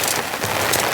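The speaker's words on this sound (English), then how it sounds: "Heavy rain." Heavy rain pours down on a campsite with a tarp strung up, a loud, dense, close drumming that fills the whole moment without any voices.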